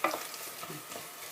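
Onions cooking in oil and butter make a soft, steady sizzle that is faint and brief, heard alone with no voices.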